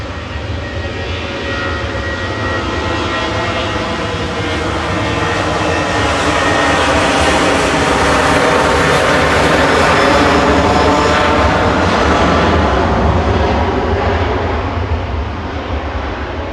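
An SAS passenger aircraft making an emergency landing at Manchester Airport gives off a loud, broad engine roar that swells to a peak and slowly fades over about sixteen seconds, with no voices.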